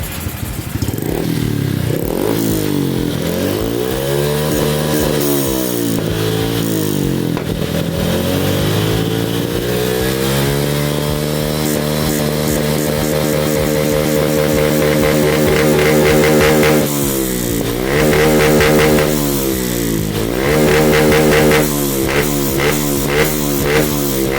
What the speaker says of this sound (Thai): รอบเครื่องนะเดี๋ยวผมจะเร่งให้ฟัง